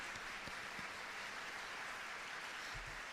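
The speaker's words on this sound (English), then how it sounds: "Big round of applause for the cast." Scattered clapping from an audience greeting a cast as it takes the stage at a game publisher's summit event, thin and fairly faint with a few distinct claps.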